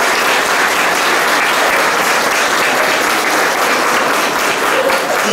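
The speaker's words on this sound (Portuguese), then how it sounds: "vocês crianças merecem uma salva de palmas" Loud, sustained applause from a large church crowd, dense and even clapping that fills the whole stretch without pause.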